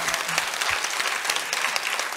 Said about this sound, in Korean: 우리 박수로 한번 축복하죠